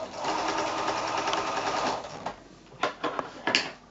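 A sewing machine stitching quilt strips, a fast steady whirring hum for about two seconds, then stopping and giving a few short bursts and clicks, close by.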